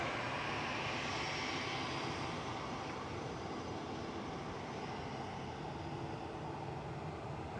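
Etihad airliner arriving at Manchester Airport, a steady broadband jet engine roar holding at a constant level throughout, distant rather than close, with no voices.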